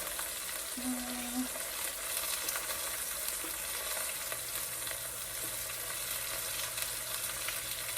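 Onions hit a hot frying pan during deglazing, giving a steady, fairly loud sizzle and crackle with faint stirring, continuous throughout with no talk.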